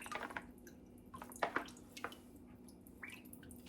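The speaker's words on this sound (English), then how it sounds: "And it needs to drip a little bit." Water dripping from squeezed scallions in a home kitchen while pupusas are prepared, a few faint scattered drips and small splashes over a low steady hum.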